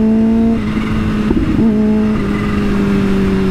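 A Kawasaki H2 superbike engine revs up close, its steady drone rising in pitch, dipping briefly, then climbing again as it pulls harder.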